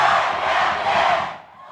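A high school student cheering section at a girls' varsity basketball game roars in a loud, sustained crowd shout that swells, holds, then drops off near the end.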